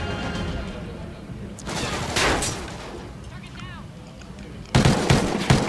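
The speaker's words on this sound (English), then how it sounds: "Good shots by Bio" Gunshots in Call of Duty Ghosts during a competitive match: bursts of rapid firing come and go over a steady game background, with a loud, sharp volley near the end.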